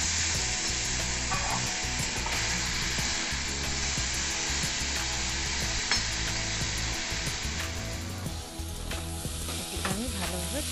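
Spices, tomatoes, onions, garlic and ginger fry for a ghee korla (pointed gourd) curry, giving a loud, dense, continuous sizzle close by with faint stirring movements running throughout, and no one talking.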